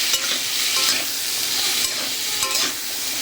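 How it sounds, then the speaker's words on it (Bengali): Radish pieces frying in a little oil with panch phoron, with a loud close hissing sizzle and swelling bursts as a spatula stirs them, steady for a few seconds with no talking. "একটু অল্প তেল দিলাম। এভাবে ভাজতে থাকবো"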